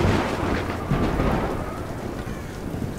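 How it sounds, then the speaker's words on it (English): Thunder rumbling through a lightning storm with heavy rain in the video game Tomb Raider, a loud, continuous broadband roar that swells and fades, with no voices. "Like that lightning."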